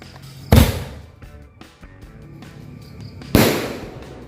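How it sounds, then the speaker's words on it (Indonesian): Two sharp Bima Sakti firecracker blasts go off close by about three seconds apart, each with a brief crackling tail, at night during Ramadan. "Yang pertama kita nyalakan mercon Bima Sakti"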